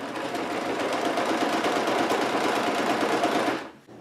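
A sewing machine running steadily as it sews a dress seam on a medieval costume made from bedding, a fast continuous rattle up close that stops abruptly near the end.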